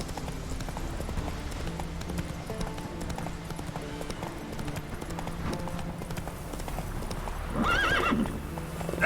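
A horse's hooves clip-clop at a steady galloping rhythm in the video game The Witcher 3: Wild Hunt, carrying on throughout, with a brief neigh or whinny near the end.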